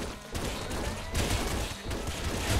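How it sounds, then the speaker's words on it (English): A laser weapon in Nuclear Throne fires a screen-covering grid of lasers, producing a dense, loud, continuous crackling burst that runs the whole time with slight surges, no voice over it. "it covers the entire screen in a grid of lasers"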